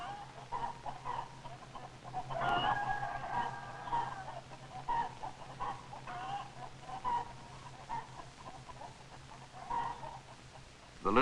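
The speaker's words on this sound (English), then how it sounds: "The big rooster crows right in Tuffy's face." A rooster crows nearby, loud and drawn out, followed by scattered clucks and farmyard calls over a low steady hum.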